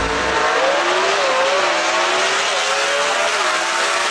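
High-winding small-block race car engines scream at the Knoxville track, sustained high revs with a pitch that sweeps up and down as they power along, loud and continuous with no talking.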